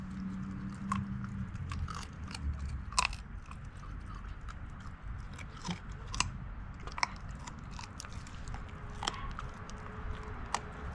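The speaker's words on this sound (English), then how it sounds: "You can see she's already learned to chew and process those bones up well." A puppy chews and crunches raw bones up close, with repeated sharp cracks and wet gnawing in an irregular rhythm throughout, quiet ambient noise beneath.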